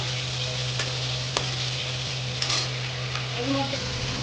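Prawns fry in a pan with a steady, even sizzle and a few faint clinks, while a voice speaks quietly.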